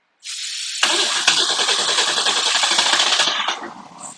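A 1992 Isuzu pickup engine cranks for a moment, then catches and settles into a steady, rattly running idle. It sounds close and fairly loud, and it eases off near the end.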